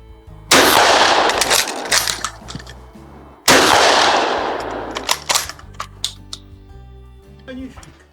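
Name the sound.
16 gauge Geha Mauser shotgun firing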